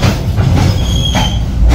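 KA Jayakarta Premium passenger train, a short trainset, arriving near Cikampek: a loud, steady rumble of rolling railcars with brief high wheel squeals, close by and with no talk.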